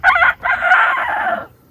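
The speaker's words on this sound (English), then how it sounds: "There's the chickens." Chickens and a rooster at a backyard farm, giving one loud, close, strained crow after a short cluck, heard alone with no talk.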